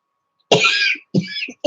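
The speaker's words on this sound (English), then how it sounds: "I got this cough and coughing nothing up" Two dry coughs in quick succession, loud and close, with a brief start of a third at the end.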